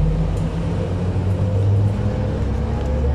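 Onboard a Q112 city bus, the engine drones low and steady with road rumble and traffic noise around it, a continuous close hum with no talking.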